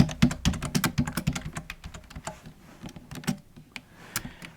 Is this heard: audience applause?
no